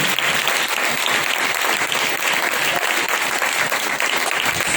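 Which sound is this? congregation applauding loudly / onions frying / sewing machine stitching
congregation applauding loudly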